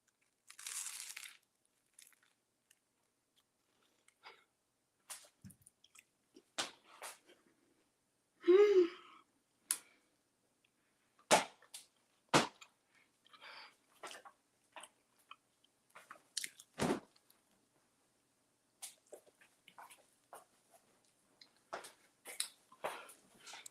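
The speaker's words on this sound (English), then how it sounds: "I don't know if y'all heard the crunch." Crunchy bites into a spaghetti sandwich, several sharp close crunches and chewing noises scattered with pauses, fairly quiet overall.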